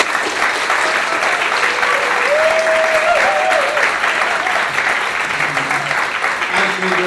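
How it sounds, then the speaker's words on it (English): At a fifth-anniversary celebration of the Council of Ex-Muslims of Britain, an audience gives a big round of applause: continuous, even clapping from a sizeable crowd, with a faint voice or whistle rising briefly midway. "A big round of applause"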